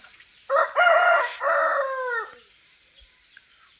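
A single fighting rooster, tied up outdoors, crows nearby, a loud drawn-out call with a falling tail, followed by faint background noise and a brief soft sound.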